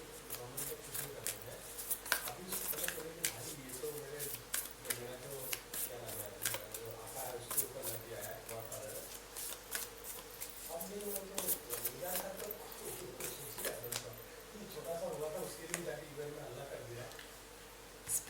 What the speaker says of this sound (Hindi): let's pull some cards from our animal Oracle deck